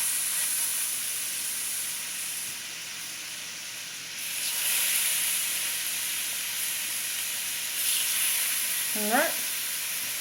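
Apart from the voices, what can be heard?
thin burger patties sizzling on a griddle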